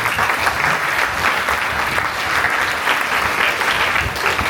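An audience at an official opening ceremony gives a round of applause, a thick, continuous crackle of many hands clapping that holds steady from start to finish.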